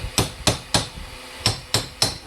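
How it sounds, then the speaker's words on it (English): Hammer striking a bearing race to seat it into a boat trailer wheel hub: six sharp, close metallic blows in an irregular rhythm with brief ringing decay, no voices. "You'll hear the difference on the hammer."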